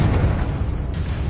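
Confringo fire spell blast in the video game Hogwarts Legacy, a loud continuous booming rumble heavy in the low end, sustained through the short moment without any voices.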